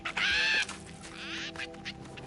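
Chicken in Fortnite Lego, a loud harsh squawk at the start followed by softer, shorter clucking calls, close and alone without talk.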